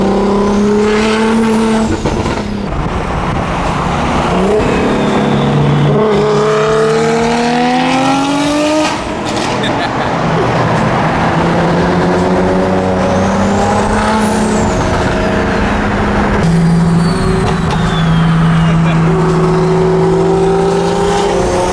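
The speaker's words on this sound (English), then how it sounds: "Turbos sound crazy together." Loud engines rev and climb through gears as several single-turbo BMW M3 cars accelerate past close by, with rising and falling turbo whines throughout.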